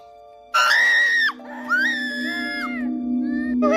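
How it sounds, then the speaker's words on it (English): Loud, high screams from a family in fear, several voices overlapping in sustained shrieks after a toy falls off a kitchen counter, continuing for a few seconds. "The family screams in fear as the toy falls off the counter."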